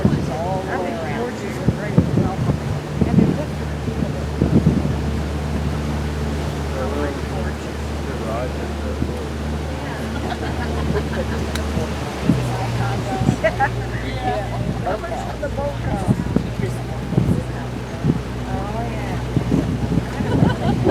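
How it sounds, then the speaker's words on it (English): Steady north wind rushes and buffets the microphone outdoors on a scenic boat tour in Winter Park, with a low rumble throughout and voices talking faintly now and then. "it's gonna be windy out here. It's just the wind's coming from the north"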